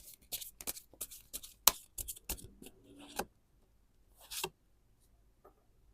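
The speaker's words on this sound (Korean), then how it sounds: "요거 좀 추가 카드 뽑아볼게요" An extra tarot card is drawn from the deck: a cluster of short, close card slides and soft taps, then a brief rustle and quiet.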